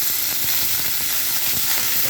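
Potatoes frying in oil with panch phoron give a steady, close sizzle with faint stirring scrapes throughout.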